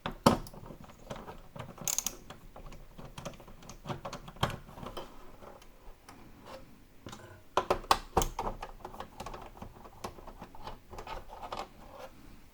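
Screws being removed from the panel of a Dell Inspiron One 2310 all-in-one computer, with close ratcheting clicks, small metallic taps and handling rattles at an uneven pace.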